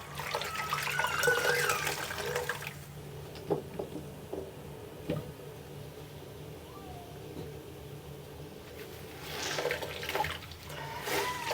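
Water rushes and gurgles out of a cruise ship stateroom sink after laundry is hand-washed with Tide sink packets. The flow is louder at the start, fades to quiet trickles and drips, then swells again near the end, with some voices nearby.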